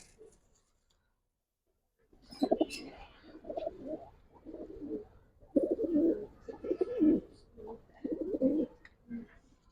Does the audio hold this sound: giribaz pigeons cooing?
yes